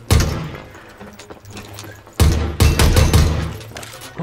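Bursts of automatic gunfire from a machine gun in the battle royale game Super People, loud and close, with a short opening volley, a pause, then a longer sustained stretch of rapid shots.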